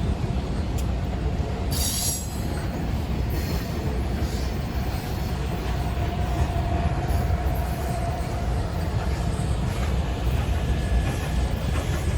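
An excursion train hauled by steam locomotive #148 on U.S. Sugar rails rolls past close by with a continuous heavy rumble of wheels on rails and occasional high metallic squeals.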